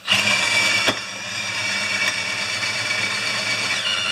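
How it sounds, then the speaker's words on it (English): A power drill bores through metal parts for a welded wagon, a steady whining buzz with light feed pressure, running continuously with two brief sharp clicks, close and fairly loud. "I'm not even pushing on the drill much."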